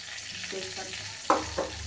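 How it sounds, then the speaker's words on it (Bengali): Bay leaves tempering in hot oil in a wok, a soft steady sizzle with a couple of sharper crackles and pops partway through. "তেজপাতার ফোড়ন দিলাম"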